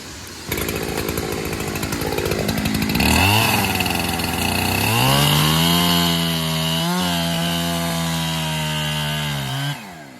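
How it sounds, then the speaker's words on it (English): A chainsaw cutting the hinge wood of a tree being felled starts with a rattling idle, then revs up into a loud, sustained whine as it bites into the wood. The pitch bends slightly under load before the saw cuts off at the end. "We're going to cut that hinge wood right down to really short."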